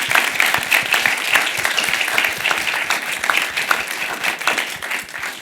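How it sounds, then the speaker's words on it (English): Audience applause at an art symposium, dense steady clapping from a room of listeners lasting several seconds at an even level. "So that's a quick burst of applause."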